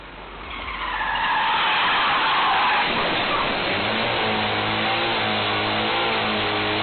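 A car brakes hard and skids on the road, a rising hiss of tyres sliding for a few seconds, then settling into a steady engine drone with tonal whine, loud and close, no speech.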